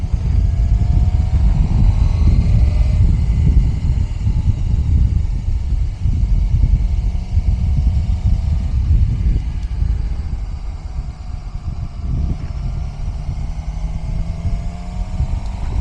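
A Suzuki GSX-R sport motorcycle ridden on a local road with slow corners while scrubbing in new tires: a steady, close engine drone with wind rumble that holds loud throughout, with slight shifts in pitch.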